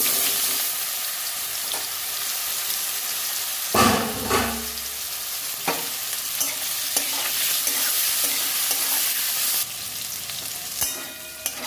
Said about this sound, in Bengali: এরপর আমি ইঁচড়টা ভেজে নেবো এটা সেদ্ধ করে নিয়েছি ভেজে নেব